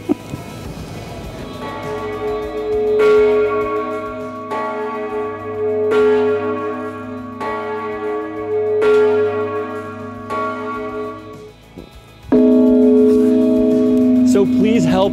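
A large church bell tolls in slow, regular strokes about every one and a half seconds, each ringing out with a long humming decay, loud and close, before a heavier sustained tone swells near the end.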